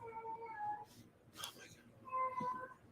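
A house cat meows twice, a drawn-out cry then a shorter one, close and quiet, with a faint rustle between.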